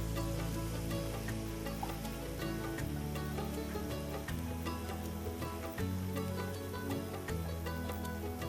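A snack sizzling in hot oil, a steady, close crackle and hiss of frying that carries on without a break, with a low background hum and no talking.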